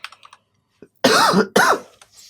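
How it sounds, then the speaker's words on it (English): Two sharp, loud coughs in quick succession, close up, preceded by a few light keyboard taps. "I have a little bit of a cough."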